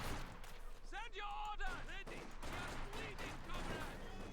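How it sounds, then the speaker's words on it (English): Gunfire crackles in a Company of Heroes 2 battle, several quick bursts and shots at a moderate distance, mixed with other battlefield sound and faint under a busy game soundscape. "Shots being fired there."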